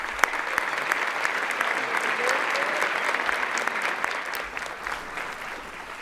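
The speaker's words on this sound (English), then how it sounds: "If we give them a round of applause." Audience applause fills a banquet hall at an evening awards presentation, a dense, steady wash of clapping that holds for about six seconds and tapers slightly near the end.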